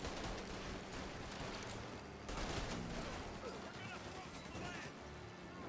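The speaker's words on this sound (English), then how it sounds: "how is Tommy even shooting the damn gun" Gunfire in the video game Mafia Definitive Edition: dense, continuous bursts of shots and crashing impacts that run without pause, loud and near, with voices mixed in.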